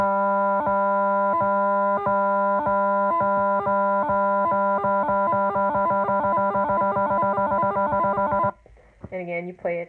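Bagpipe practice chanter playing a GDE triplet speed exercise on low G, a reedy buzzing tone with rapid repeated note grace figures that speed up steadily before stopping, then a brief faint phrase.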